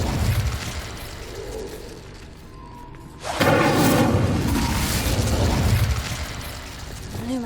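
Incendio fire spell cast in Hogwarts Legacy: a sudden loud whooshing burst kicks in partway through and holds as a sustained roaring, crackling blaze over a quieter ambient game background.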